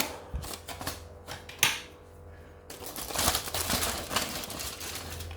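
A knife slices through a cooked roast beef in a roasting pot, giving a string of close scraping, crunchy cuts and clicks with a steady hum underneath and no talking.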